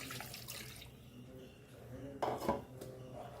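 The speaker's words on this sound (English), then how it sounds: "So I'm taking like 1 cup of water in this." Water poured from a cup into a pot of Goan beef roast, a soft splashing burst amid light clinks of metal cookware in a quiet kitchen.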